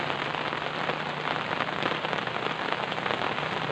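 Rain pours steadily at an outdoor fishing spot, a dense, even hiss of drops pattering on surfaces without letup and no voices.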